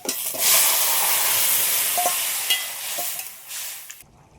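Vegetables tip into onion and garlic already frying in oil, giving a loud, continuous sizzle with light stirring scrapes. The sound tapers off toward the end and then cuts out. No one speaks.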